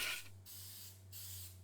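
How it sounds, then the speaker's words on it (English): Coconut oil is sprayed from a can into custard cups, with two short, close hissing bursts separated by a brief pause. "I spray it with coconut oil so that when I unmold it, it'll make it a little bit easier"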